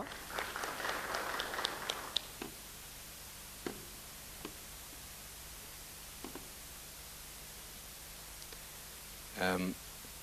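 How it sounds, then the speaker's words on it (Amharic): An audience applauds in a meeting hall, a brief burst of clapping at the start that quickly dies away into a quiet room with scattered faint clicks and a short voice burst near the end. "ስለዚህ ለእናንተም ጭብጨባ።"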